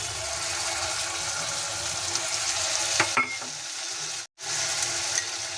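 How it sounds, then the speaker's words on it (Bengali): Pre-fried potatoes tipped into a hot pan for a spiced chickpea chola dish, a loud continuous frying hiss with a short clatter and stir in the middle, close by. "দিয়ে দিচ্ছি ভেজে রাখা আলু"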